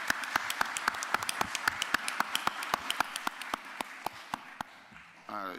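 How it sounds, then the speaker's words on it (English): Sparse clapping from a small audience at a Rockdale County commissioners' meeting, individual claps spaced at an even rhythm and fairly distinct, fading toward the end as a voice begins. "Give the Commissioner a round of applause."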